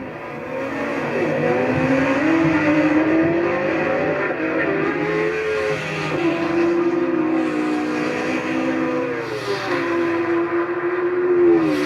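Cars including a Citroen DS3 and an Ariel Atom, plus a motorbike, in a standing quarter-mile drag race: loud, sustained engine roar with rising and falling revs as gears change, close and continuous.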